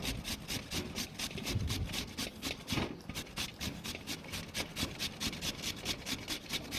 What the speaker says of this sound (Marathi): मी इथे ही किसणी घेतलेली आहे या किसणीने मी ह्या आलू किसून घेत आहे